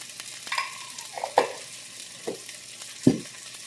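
Sliced jalapeno hitting a hot pan of cabbage, apple and chicken sausage, giving a soft sizzle under a few sharp stirring scrapes and clinks.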